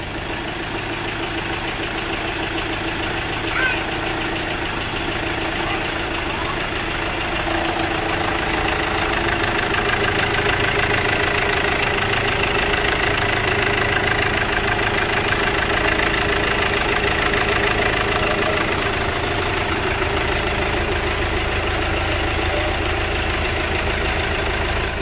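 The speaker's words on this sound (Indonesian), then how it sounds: "kita biarkan dulu mesinnya nyala, nanti coba kita gas mobilnya" A Chevrolet Captiva diesel engine idles steadily after a water pump replacement, a continuous low rumble with a faint knocking texture that grows slightly louder partway through, with no talk over it.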